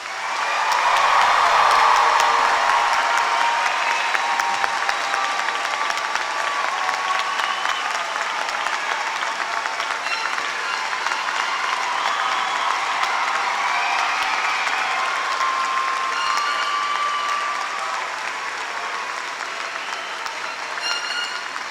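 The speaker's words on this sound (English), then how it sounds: "please join with me as we honor all of these graduates with a well-deserved round of" Graduates at a spring commencement ceremony are honored with sustained applause from a large crowd, swelling loudest in the first few seconds and then holding a steady, dense clapping that gradually eases toward the end.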